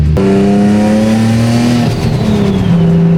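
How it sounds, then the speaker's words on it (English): A big-turbo Nissan 350Z engine revs loudly and steadily, its pitch climbing then dropping, with a faint high turbo whine riding on top. "The turbo noises are sick."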